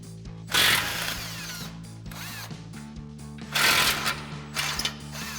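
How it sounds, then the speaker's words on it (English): An impact wrench with a 15mm socket spins off the tow hook mounting bolts on a 2021-2023 Ford F-150, two loud rattling bursts of hammering with a steady whir between them, close up and without talk. "we'll grab our 15mm socket on our impact, pop the two mounting bolts off, and remove our hook"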